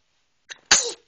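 A baby gives a single close, sharp sneeze, preceded by a soft intake of breath, then a brief airy tail fading out.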